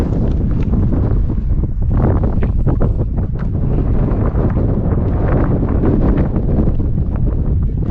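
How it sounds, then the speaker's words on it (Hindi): Strong wind at high altitude near Babusar Top in freezing cold, loud continuous buffeting roar battering the microphone in rough gusts, with no speech. "तो आपको आवाज़ आ रही होगी हवाओं की"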